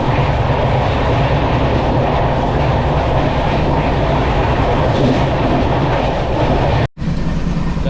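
Loud, steady rail rumble and roar of a train at Ramagundam station in Telangana fills the whole stretch, broken by one sudden brief dropout near the end; no speech.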